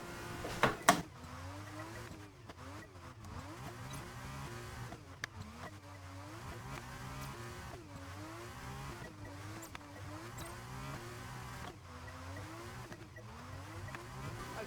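A Formula 1 car from the F1 2022 racing game laps Silverstone, its engine note repeatedly climbing and dropping with each upshift and corner, a fairly quiet, continuous whine.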